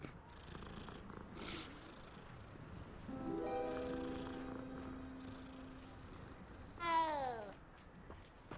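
A cat in the video game Hogwarts Legacy gives a drawn-out meow, then a short rising one a few seconds later, over a soft low ambient bed with no talking.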